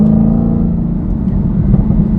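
Supercharged Dodge Challenger Hellcat accelerating hard, a loud, close, steady low rumbling engine roar with a deep throbbing note that holds for a couple of seconds without any talk.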